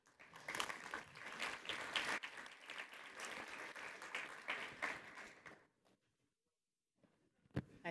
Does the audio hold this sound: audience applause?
yes